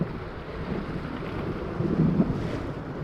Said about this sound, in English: We are reaching the final rapids